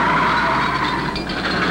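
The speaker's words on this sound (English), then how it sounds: "It's a wreck. He turned over." Loud tire skidding and roaring race car noise as a car crashes and turns over in a 1951 NASCAR race at Langhorne, a harsh sustained screech with engine drone, brief and unbroken.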